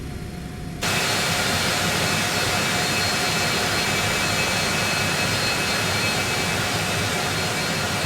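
Citation X business jet engines whine and roar steadily during a taxi to the FBO in the X-Plane flight simulator, a loud continuous drone with a high tonal whistle that starts abruptly after a short quiet lead-in.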